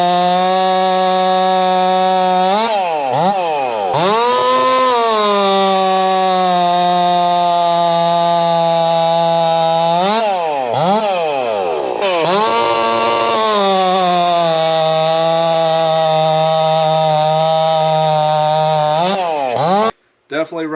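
A modified Husqvarna 55 racing chainsaw holds a loud, near, buzzing engine note for most of the stretch, with several sharp revving dips and recoveries as it cuts wood, then cuts off abruptly at the end.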